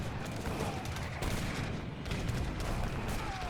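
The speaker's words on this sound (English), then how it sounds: "I start moving my culverins up, and I start taking pop shots at him." Culverins firing at enemy units in Age of Empires III during a 2v2 match: several sharp cannon shots cracking out one after another amid a busy battle din, moderately loud, with no talking.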